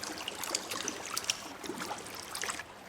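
Splashing, trickling water from a character wading through a cave stream in the Colossal Cave 3D video game, with a steady run of close, irregular sloshes and gurgles and no talking.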